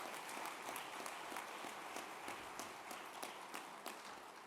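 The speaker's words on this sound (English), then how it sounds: "let's give a round of applause to all of our agency heads" Audience applause at an annual governor's summit on disabilities, a steady wash of many hands clapping with scattered sharper claps standing out, continuous and fairly even for several seconds with no talk over it.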